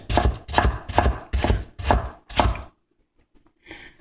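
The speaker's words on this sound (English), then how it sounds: "Now, I start off breaking the whole goddamn onion down" A knife chops through a red onion on a cutting board in six firm, evenly spaced strokes, close and loud, then a pause of near silence before a softer knock at the end.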